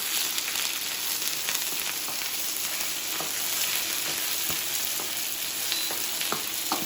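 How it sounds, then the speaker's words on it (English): Garlic, ginger and vegetables stir-fry in a hot pan with a constant bright sizzle, while the spatula scrapes and clicks now and then at an irregular pace, close up and with no voices. "That's why it's called stir fry, because we stir all the time."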